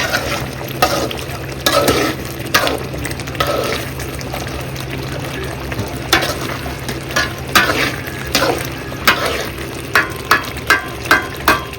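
Pepper chicken frying in a pan for a Madurai wedding-style pepper fry, a steady sizzle broken by repeated scraping stir strokes that grow more regular toward the end.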